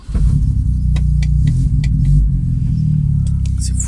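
A Volvo 240 with about 325,000 on it and a stainless steel exhaust starts at once and settles into a loud, steady low idle rumble, close by, no talk.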